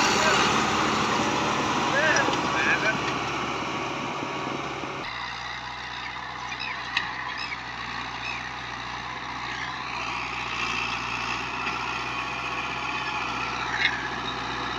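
A New Holland 640 tractor pulls a disc harrow, its engine droning steadily under a constant rumble, louder and rougher at first and then settling to an even hum, while people talk.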